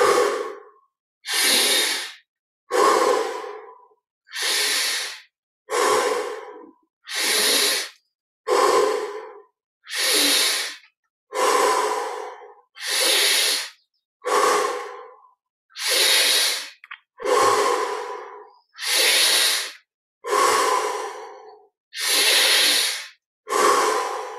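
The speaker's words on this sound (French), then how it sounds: "20 respirations profondes. Inspire par le nez. Expire par la bouche." Deep, slow breathing, in through the nose and out through the mouth, repeated about sixteen times in a steady rhythm, each breath loud, close and airy with brief silences between.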